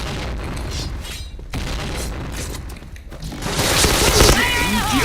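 Grenade blast in the shooter game Point Blank, a loud boom swelling near the end amid dense gunfire bursts and game voice callouts, with a strong rumble over the last second.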